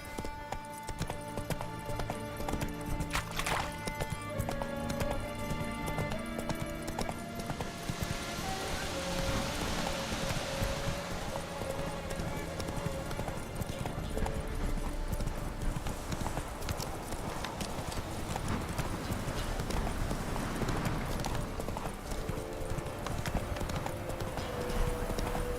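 Roach the horse gallops in The Witcher 3, with rapid rhythmic hoofbeats running steadily throughout under game music and ambient sound.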